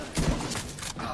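Gunfire from a video game landing a headshot: a sharp, close burst followed by a second shot about half a second later, with a steady background rumble behind them.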